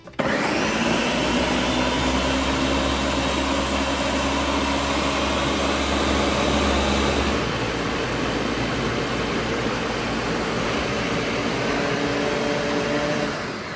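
A blender runs loudly and steadily, whirring through hot liquid for chile colorado sauce, with a shift in motor pitch partway through and no talking.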